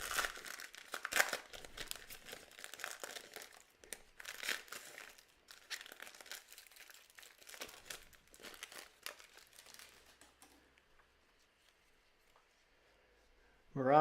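A 2022 Optic UFC hobby card pack is torn open and its foil wrapper crinkled in close, intermittent bursts that fade to quiet, ending with a brief voice.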